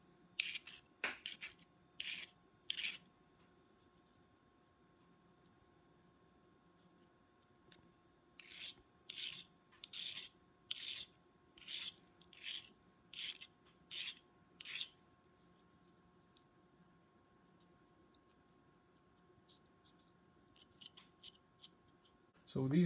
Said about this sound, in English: So you just go smoothly with a smooth file. Just try to take the burrs out.